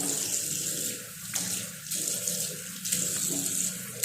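Water poured to rinse a bathroom floor runs as a steady broadband splash and trickle, close and continuous for several seconds, with small surges in flow and no talk.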